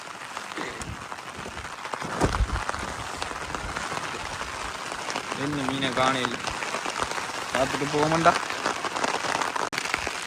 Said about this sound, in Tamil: மழையும் அடிச்சு கொண்டுக்குங்க காத்தும் செம்மையாக தூரிக்குங்க